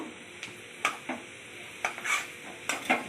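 Taro stolons with fish roe, turmeric and salt are stir-fried in a pan, with a faint sizzle beneath several sharp scraping strokes of a spatula, spaced irregularly and close by.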